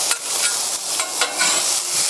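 Vegetables for fried rice sizzle steadily in a hot pan, a close, bright frying hiss with a few soft stirring pulses.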